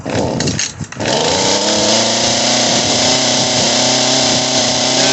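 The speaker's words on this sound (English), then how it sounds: "Hold the throttle wide open, pull till it fires. Just fired. Take it off choke, still full throttle." Echo HC-150 hedge trimmer after a carburetor and fuel line repair: its small two-stroke engine sputters briefly, then runs loud and steady at full throttle with a constant high buzzing drone close by.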